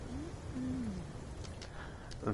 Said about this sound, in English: It makes crow noises and bone jingly noises like a wind chime.